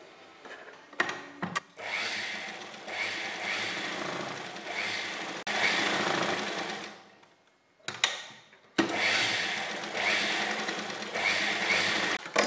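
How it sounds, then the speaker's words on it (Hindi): An electric sewing machine runs stitches along the edges of kurti fabric, its steady mechanical whirring and rapid needle clatter coming in several long close bursts separated by short pauses. "किनारे सिलाई लगाएंगे।"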